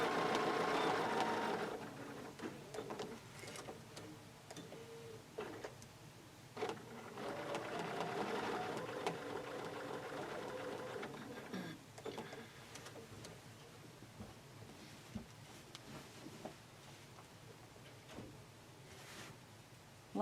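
A sewing machine stitches a quilt block while following a ruler edge, its faint, quiet whirring coming in uneven bursts with short pauses and soft handling clicks.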